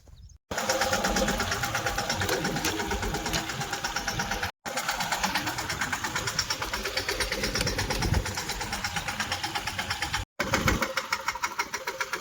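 A new tractor engine chugs loudly and steadily up close on a farm during groundnut sowing, its rapid rhythmic knocking running almost without pause.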